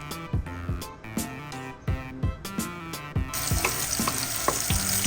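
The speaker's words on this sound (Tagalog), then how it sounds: "kinigisa ko po ang ating bawang" Garlic sautéing in a hot pan for ginisang kalabasa, with rhythmic scraping and tapping of a utensil against the pan for the first few seconds, then a sudden louder, steady sizzle as more ingredients hit the oil.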